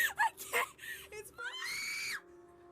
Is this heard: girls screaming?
yes